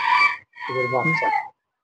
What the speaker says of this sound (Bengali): এখানে একজোড়া আছে মরগ এবং মুরগি